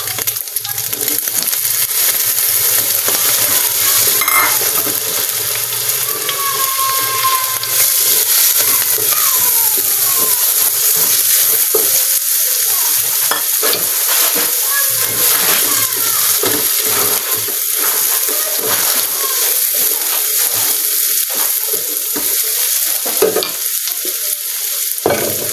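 Potatoes stir-fried for fried rice, stirred steadily with a spatula in a pan, giving a continuous loud sizzle with repeated scraping clinks throughout and no talk.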